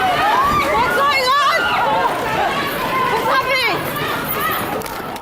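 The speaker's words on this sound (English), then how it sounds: "everyone begins running at once at a train station" A crowd runs in panic through a London train station, with dense overlapping shouting and chatter, hurried footsteps and commotion, loud and close throughout.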